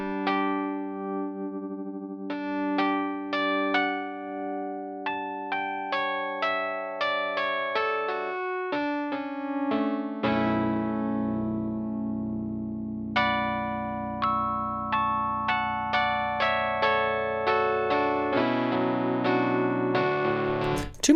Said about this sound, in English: Too much distortion for chords for me.